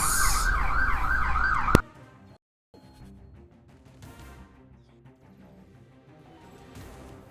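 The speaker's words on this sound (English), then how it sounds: "an ambulance passes by at full speed and sound and everything" An ambulance siren wails loudly as the vehicle speeds past, cycling up and down for a couple of seconds before cutting off abruptly, leaving a quieter background.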